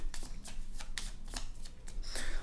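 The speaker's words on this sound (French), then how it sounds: "On va mélanger le Graal dans une des 2 moitiés." A pile of board game cards from an expedition deck is riffled and shuffled by hand, a close series of quick papery flicks and soft slaps in uneven bursts, with no talking.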